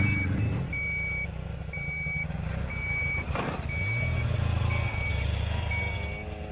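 A vehicle's reversing alarm beeps steadily in a regular on-off rhythm over the low rumble of an idling truck engine.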